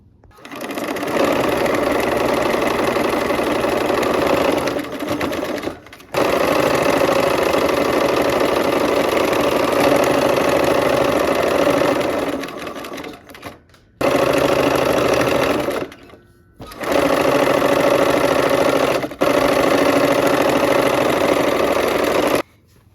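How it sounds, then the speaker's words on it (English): A sewing machine runs loud and close while sewing nested quilt seams, a steady rapid mechanical whir in long runs of several seconds broken by brief pauses, with no talking. "These seams also will butt up against each other. Let's go and sew."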